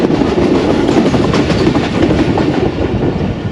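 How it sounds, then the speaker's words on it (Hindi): Wheels of the Jaffar Express clattering loudly over single-line track, a dense continuous rumble with rhythmic clicking from inside the moving train, no talk. "बहुत तेज़ पटरियों की आवाज़ थी"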